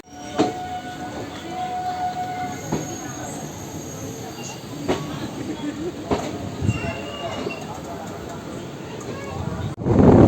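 A train, the 13063 Balurghat Express, departs Malda station, rumbling steadily with occasional metallic clanks and wheel squeals, a faint horn-like tone early on, and a louder surge at the very end.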